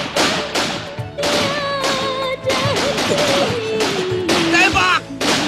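Gunfire rings out in a film shootout as repeated loud, broadband bursts at an uneven pace, mixed with shouting voices and a dramatic music score.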